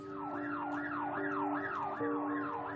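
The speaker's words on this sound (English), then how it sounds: "they started drowning me out with sirens" Emergency vehicle siren wailing outside a UK prison, a loud rising-and-falling tone repeating about every half second, steady and continuous with no talking.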